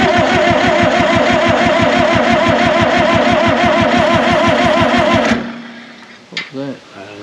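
A stuck supercharged two-stroke Detroit Diesel in a John Deere 440 that had been sitting runs in a loud, rapid steady chugging beat, then cuts off abruptly, leaving faint clatter and a brief bump.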